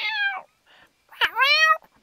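A human voice imitates a cat, giving two drawn-out meows separated by a short pause, close and fairly loud.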